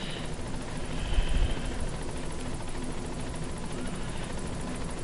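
Helicopter rotor chop from Metal Gear Solid V: The Phantom Pain arriving at a landing zone, a steady loud thrumming that holds throughout with a brief low swell near the start.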